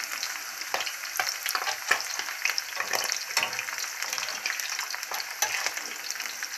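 Pieces of liver fry in a pan with a bright, steady sizzle and crackle, punctuated by occasional stirring scrapes, close up and continuous.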